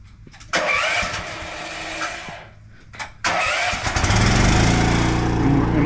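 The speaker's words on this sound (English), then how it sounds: "It's a zero-turn aerator, guys, but you can't really zero-turn because you'll tear up the yard" A Z-Aerate 24-inch zero-turn lawn aerator runs its engine loudly nearby with a steady mid-pitched drone, dipping briefly then surging back up and holding strong.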